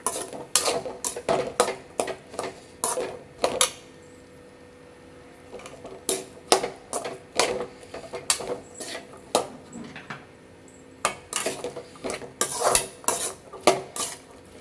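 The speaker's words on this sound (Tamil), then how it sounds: "இதை அப்படியே அழகாக மிக்ஸ் பண்ணிடுவோம்" Masala sundal is mixed in a pan with a metal spoon, giving repeated clanking scrapes against the pan in irregular bursts, close and fairly loud.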